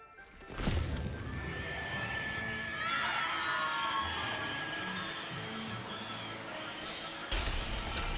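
Mandrakes being pulled from pots in Hogwarts Legacy let out a long, shrill, wavering scream that swells and rises over several seconds, opening and ending with sharp bursts of noise.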